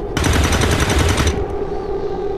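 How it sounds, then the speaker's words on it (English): A burst of shots in XCOM 2 rattles off in a fast, even string for about a second. The loud, close volley cuts off abruptly, leaving low rumble and faint ambience. "Shotguns can shoot people at quite long distance."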